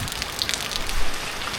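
Steady rain falls on the roof of a large four-storey house with a helipad on top, a soft continuous patter with scattered drop hits, fairly close and moderately loud, with no voices.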